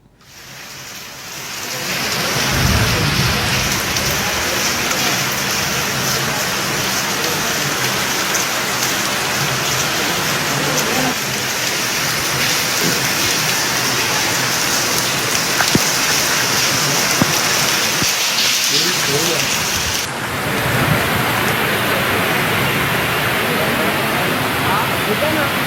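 Heavy rain pouring down in Hyderabad, a loud, dense, unbroken roar of falling water and splashing on surfaces that continues throughout.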